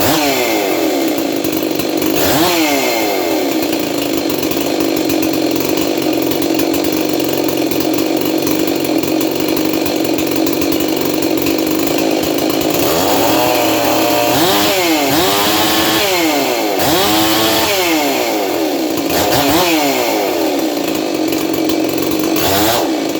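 A 660 chainsaw with a muffler mod runs loud and close the whole time, holding a steady high rev with repeated rising and falling throttle sweeps toward the end.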